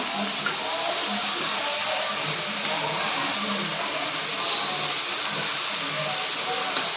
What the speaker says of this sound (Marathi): आता कांदा आणि मिरची भाजून घेते.